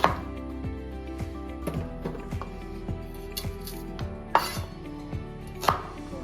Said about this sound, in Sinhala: මේ හතරට කපා ගන්න.